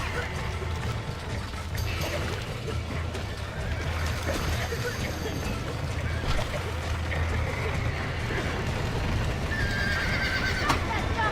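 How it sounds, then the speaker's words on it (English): A horse whinnies loudly in the video game Red Dead Redemption, with hooves clopping and mechanical rattling throughout the busy game soundscape. "Stop that dumb horse!"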